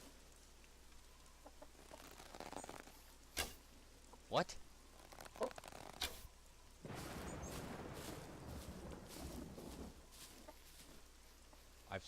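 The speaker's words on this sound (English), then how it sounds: "Oh yeah, I hear that chicken." A chicken in the survival game SCUM clucks in short, sparse bursts at mid distance, mixed with thumps and a stretch of rushing noise while a player talks briefly.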